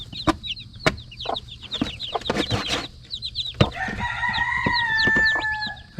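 Newly hatched baby chicks peep in quick, high chirps around a hen during a natural hatching, with short clucks and sharp scratching knocks mixed in, close and lively.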